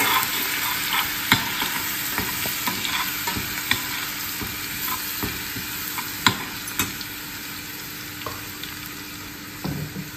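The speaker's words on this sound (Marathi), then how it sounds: "लसूण हिरवी मिरची परतवून घेऊया." Garlic and green chillies frying in a pan for Nagpur-style patodi rassa: a steady, close sizzle runs throughout, broken by sharp clicks and taps of stirring against the pan, with no talking.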